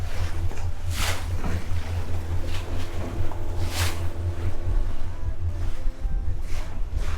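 A RIB motorboat speeds across a Masurian lake, heard as a constant low engine drone beneath rushing water and wind buffeting, with a few louder splashing swells.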